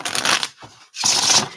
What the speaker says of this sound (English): I'm just going to put a few more shuffles on here.